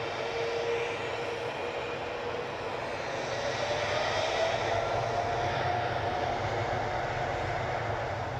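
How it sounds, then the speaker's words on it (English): An Eastern Airways airliner departing Newcastle on the Amsterdam service, its engine roar steady and sustained at moderate loudness, building slightly through the middle, with no voices. "Eastern Airways have turned that one round really quick. The Amsterdam service is on its way out now."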